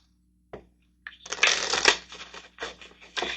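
Tarot cards being shuffled by hand in a quiet room, starting with a single soft tap, then a burst of riffling flutter followed by two shorter shuffles, close and fairly loud.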